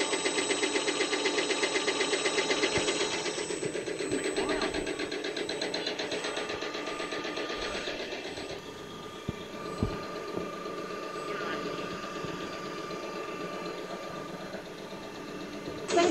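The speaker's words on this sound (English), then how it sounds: "here is the motor for plunger pump." An electric motor drives a plunger pump on a CR819/CR926 common rail test bench, giving a steady mechanical hum and rhythmic knocking that eases partway through and then settles into a quieter drone with occasional clicks.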